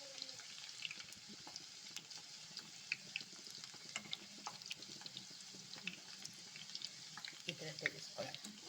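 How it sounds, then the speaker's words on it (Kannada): Kaddi pakoda frying in hot oil makes a steady, faint hiss and sizzle while pieces are turned, with small clicks of the utensil scattered throughout under light background noise. "ಆ ಕಡೆ ತಿರುಗಿಸಿ ಸ್ವಲ್ಪ ಫ್ರೈ ಮಾಡ್ಕೋಬೇಕು ಚೆನ್ನಾಗಿ ನೋಡಿ"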